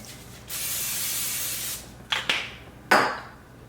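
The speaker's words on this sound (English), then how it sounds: "So I'm gonna spray again." A long hissing spray from an aerosol can of cooking oil onto a pan, followed by a few shorter bursts, close and clear against a quiet background.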